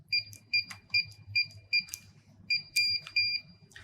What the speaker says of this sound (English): My keypad should beep twice